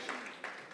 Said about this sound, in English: Ladies and gentlemen, just a quick, of course, round of applause